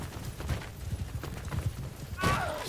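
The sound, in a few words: horse hooves in video game battle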